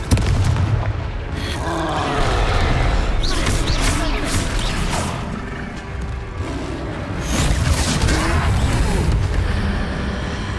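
Blasting-spell explosions and impacts ring out in a Hogwarts Legacy battle against a troll, loud booming crashes repeating over a dense, noisy fight with voices mixed in.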